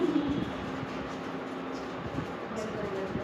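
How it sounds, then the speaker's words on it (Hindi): Pigeons scuffle and coo inside a classroom, a few soft coos and flutters rising faintly over a steady room hum, with no clear talk. "कबूतर आ गए।"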